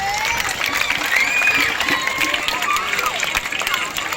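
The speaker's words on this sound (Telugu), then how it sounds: "అన్నగారికి ఒక్కసారి చప్పట్లతో అభినందిద్దాం" A crowd claps for a guest at a school event in Adoni, a dense steady patter of hands lasting several seconds, with voices and cheering mixed through it.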